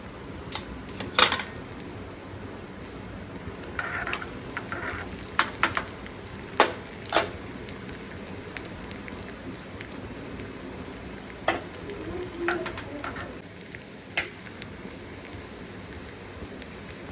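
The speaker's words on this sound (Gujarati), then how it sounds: "હવે તેમાં જીરું, 2 કળી લસણને થોડું વધારે સંતળાવા દેવાનું, જેનાથી તડકામાં ટેસ્ટ ખૂબ જ સરસ આવશે" Cumin and two garlic cloves fry in two spoons of ghee for a dal tadka tempering, producing a steady soft sizzle with scattered sharp pops and occasional utensil clinks, close and without voices.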